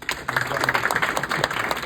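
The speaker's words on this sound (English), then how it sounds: "let's give them a round of applause" Students clap for teachers and school staff at a Law Day assembly, a brief and fairly loud round of applause with scattered voices mixed in.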